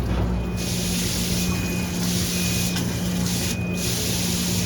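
A flexible spray nozzle sprays water for rinsing parts, giving a steady, even hiss that runs unbroken throughout, fairly loud and close with no talking.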